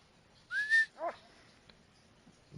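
A hunting dog in theHunter: Call of the Wild gives a short rising whistle-like whine, then a brief whimpering yelp, alone against quiet game ambience.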